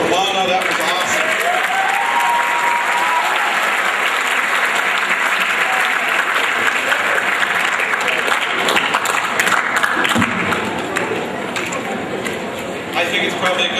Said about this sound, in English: Let's have a round of applause for Mona